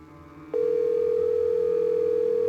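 A steady, loud telephone dial tone in a Nancy Drew mystery game starts suddenly after a quiet moment and holds unbroken at one pitch, with faint background hum and no voices.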